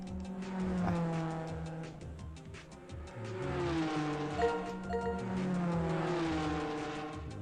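Arcade-style car driving in the CryptoCars video game: a steady buzzing engine tone rising and falling with revs, punctuated by short game sound effects and tire noise, continuous and fairly loud throughout.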